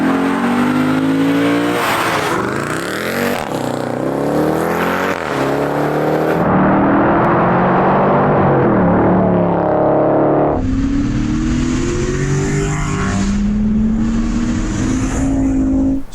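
A high-performance car engine revs hard and accelerates, its loud, close roar climbing in pitch through several gear changes, dropping briefly between shifts before surging again.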